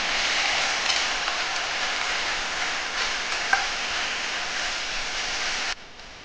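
Broccoli and potato curry being sautéed in a pan gives a steady, broadband sizzle with a soft clink partway through, close and continuous, then cutting off abruptly near the end; no voices.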